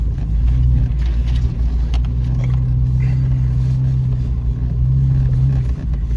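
A Jeep drives on a hard-pack gravel road, its engine giving a loud, steady low drone with constant rumble throughout. Faint crunches and ticks from the gravel come through, and no one speaks.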